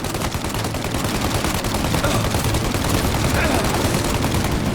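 Sustained gunfire fills a shootout in the video game Mafia Definitive Edition, a dense, unbroken clatter of rapid shots with no pauses over the whole stretch.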